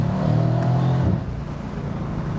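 A 2017 Mercedes-AMG C63S Convertible's 510 hp V8 roars loudly from close by as it holds high revs during a paddle-shift downshift, then the engine note drops and settles into a lower rumble.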